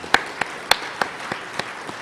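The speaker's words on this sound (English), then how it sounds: "Please give a round of applause for all of our sponsors." Sparse, scattered hand claps from an audience at a community service awards ceremony, a handful of separate sharp claps spread over two seconds rather than full sustained applause.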